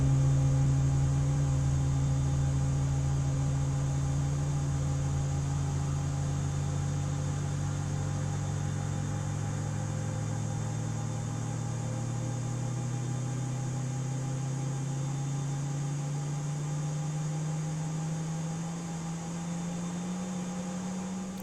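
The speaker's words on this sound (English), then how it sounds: "we can enjoy engine startup from the outside" In Microsoft Flight Simulator 2020, an Airbus A32NX engine starts up as heard from outside the aircraft: a steady whining hum whose tones slowly rise in pitch over about twenty seconds, with no talking over it.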